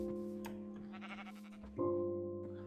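Blocky sheep in the video game Minecraft bleat a couple of times over a steady game background drone, close and fairly loud, with no one talking.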